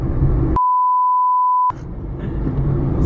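A single steady censor-style beep tone, loud and unbroken for about a second, cuts through a rumbling background of vehicle noise in a car.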